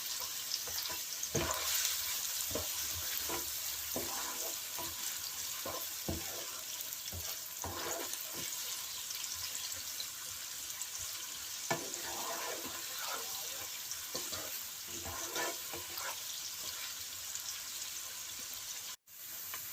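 Onions frying in a pan over a medium flame for a salmon fish curry, a steady close sizzle with scattered stirring clicks and scrapes throughout, no talking.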